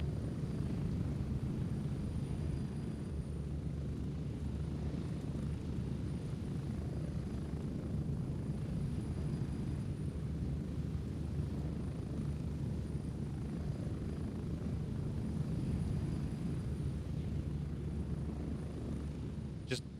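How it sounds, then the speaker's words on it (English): Muffled helicopter flight in the military shooter game Gray Zone Warfare: a steady, dulled rotor and engine drone holds for the whole stretch, low and constant like cabin noise heard through muted audio. "when you hop on a helicopter, you hit the O button, the helicopter mutes, and it's not quite so loud anymore"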